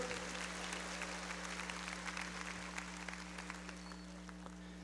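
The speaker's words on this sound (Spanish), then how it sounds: "¿Cómo aplauden las señoras?" Women in a church congregation clap together during a sermon, a steady dense wash of applause sustained throughout, with a low electrical hum underneath.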